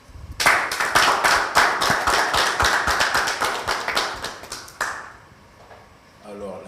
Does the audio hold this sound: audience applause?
yes